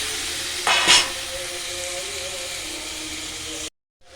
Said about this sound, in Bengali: কিছুক্ষণ নাড়ার পরে আমি মাছগুলোকে দিয়ে সুন্দর করে কষে নেব।